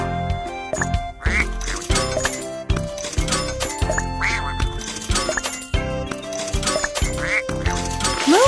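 Cartoon ducks in the Baby Panda's Carnival game quack repeatedly in quick bursts, mixed with bright coin-like clinks and chimes over lively game music.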